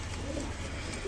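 A green male pigeon coos softly at close range for about a second, faint against a low background hum.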